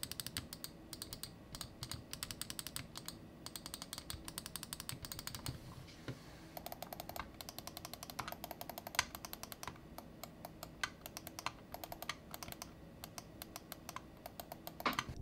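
Rapid, close clicking from the side buttons of gaming mice, a Glorious Model D Wireless and Razer Viper V2 Pro, with quick dense bursts and brief pauses, faint and without talk.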